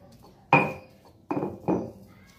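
Fried potatoes are pressed and mashed in a bowl for perkedel kentang, giving three separate clattering knocks of utensil against bowl with quiet pauses between them.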